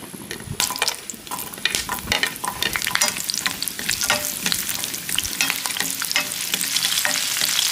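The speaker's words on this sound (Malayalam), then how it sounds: "പട്ട ഗ്രാമ്പു അതും ചൂടായി വന്നിട്ടുണ്ട് ഉള്ളി ഇടുന്നുണ്ട്" Sliced onions frying with cinnamon, cloves and pepper in hot oil for a Kerala roasted-coconut chicken curry, a dense crackling sizzle with frequent stirring clatter, close and loud throughout without speech.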